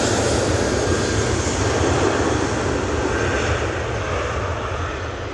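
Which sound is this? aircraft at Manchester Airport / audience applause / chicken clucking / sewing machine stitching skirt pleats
aircraft at Manchester Airport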